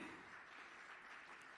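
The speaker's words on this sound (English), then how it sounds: "You guys can have a louder and a better round of applause." An audience claps at the ASLI Ageing Fest 2024 stage event, a brief, even wash of applause heard from a distance and fairly faint, with no clear voices over it.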